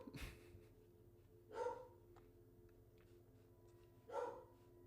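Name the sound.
dog barking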